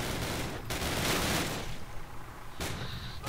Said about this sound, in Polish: Mocno strzela!